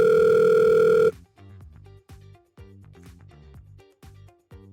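Incoming call alert on the GoTo mobile phone app: one steady electronic ring tone for about a second, followed by a quick run of short percussive chimes.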